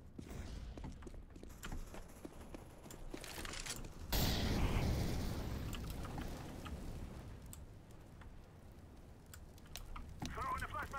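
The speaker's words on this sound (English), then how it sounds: "I'm throwing a flashbang." A flashbang grenade goes off in CS:GO with a sudden loud broadband blast midway, amid scattered gunfire, clicks and game sounds; a player talks over parts of it.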